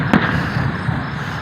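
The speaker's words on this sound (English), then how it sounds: "we're watching the fireworks show right across the street from the fairgrounds" Fireworks show bursting across the street from a fairgrounds in Kingman, Arizona, heard from a distance as one sharp pop followed by a steady low rumble and crackle.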